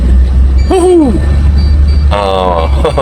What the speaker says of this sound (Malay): Itu adalah bunyi seat belt.